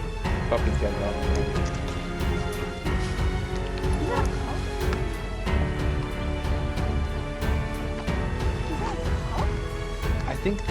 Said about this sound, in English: I think that's a baby dog.